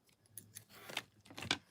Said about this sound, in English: I don't know why this scissors being so stupid.